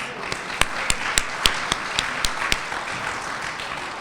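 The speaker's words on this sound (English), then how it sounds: "Let's give yourselves a round of applause" At a Hall of Fame induction ceremony, an audience gives a round of applause. Soft, scattered clapping runs under a voice, with a few sharper individual claps standing out.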